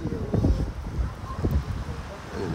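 Wind gusts beside a canal, coming across the water as low, uneven buffeting rumbles, with a few louder thumps against the microphone.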